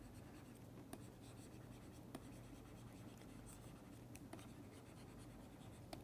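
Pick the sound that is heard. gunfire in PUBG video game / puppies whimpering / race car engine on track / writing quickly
writing quickly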